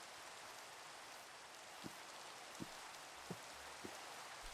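Steady rain falls in the Minecraft video game, a continuous soft hiss of drops at low level with a few faint thuds spaced through it.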